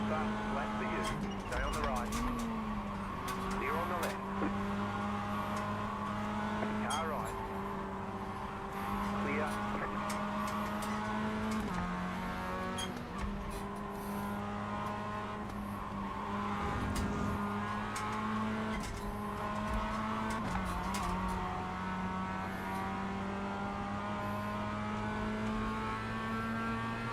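A Mazda MX-5 race car lapping Lime Rock Park, its engine droning steadily near and loud from the cockpit, pitch rising and dropping through gear changes, with a radio voice talking over it now and then.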